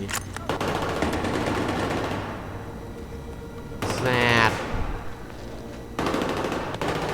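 Video game gunfire in Battlefield 3: rapid automatic bursts broken by brief pauses, with a voice briefly talking over one of the breaks.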